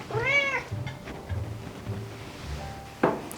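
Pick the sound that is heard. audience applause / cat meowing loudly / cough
cat meowing loudly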